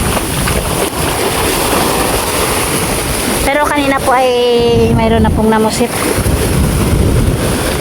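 Big ocean waves and strong wind roar around a small raft at sea, a loud, constant rush of surf and buffeting microphone wind, while someone talks over it partway through.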